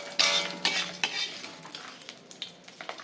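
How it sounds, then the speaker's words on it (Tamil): Brinjal and shelled field beans dry-roasting in a pan for a festival poricha kuzhambu, a spoon scraping and tossing them in a run of sharp strokes, loud at first and then lighter, with no talk. "எல்லாத்தையும் போட்டு இப்போ இதை என்னென்னா வறுக்கணும்."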